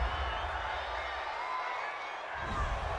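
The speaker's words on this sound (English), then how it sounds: "this crowd does not like that call" Stadium crowd at an NFL game, Tennessee Titans versus Denver Broncos, reacting to a roughing-the-passer penalty with a steady loud roar that swells again near the end.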